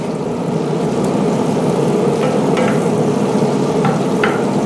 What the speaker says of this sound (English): look at those potatoes. Yes, sir. Nice and sizzling.